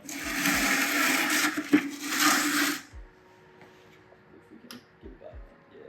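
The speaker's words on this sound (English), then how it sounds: "You just unscrew this, coolant starts leaking." Coolant gushes from an opened radiator drain on a Honda Civic during a radiator swap, a loud hissing, splashing rush for about three seconds that stops abruptly, leaving faint drips and small clicks.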